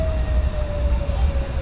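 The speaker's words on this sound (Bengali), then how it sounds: "এটা ট্রেন" A small toy train ride in an amusement park rumbles along with a constant high whining tone over low mechanical clatter.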